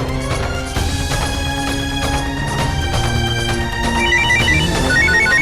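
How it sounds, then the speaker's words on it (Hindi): A telephone rings in a Hindi TV drama, a repeating electronic ringtone melody that is loud and steady, layered over background music with no talking. "पापा जी का फोन आ रहा है,"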